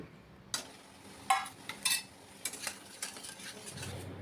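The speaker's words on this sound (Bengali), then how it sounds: "এবার কিছুক্ষণ একটু খুব ভালো করে কষিয়ে নেব।" Boiled potatoes and eggs stirred and fried in spices in a pan: quiet, faint sizzle with scattered scrapes and clinks of a spoon against the pan, a few sharp knocks standing out.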